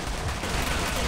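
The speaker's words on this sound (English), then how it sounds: "I was getting shot by two people" Dense rapid gunfire in a multiplayer shooter game, loud continuous crackle of overlapping shots across a brief burst, close and unbroken, with no talking.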